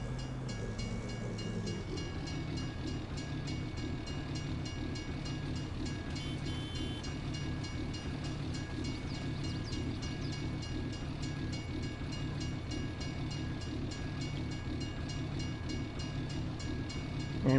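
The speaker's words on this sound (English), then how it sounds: "And there's a train coming." A train in the video game Farming Simulator 22 passes with a steady, continuous rumble of rolling wagons and rhythmic wheel clatter, fairly faint and unbroken, with no one talking.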